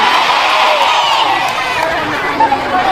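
A crowd of women at a humorous religious talk show cheers and shouts in a dense, steady roar with scattered whoops, loud and close throughout with no clear clapping rhythm.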